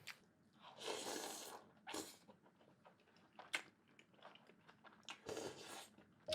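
A person imitates mukbang eating with the mouth alone, making no real food sounds: bursts of smacking, chewing and crunchy mouth noises come in irregular clusters, close and fairly quiet, with no words spoken.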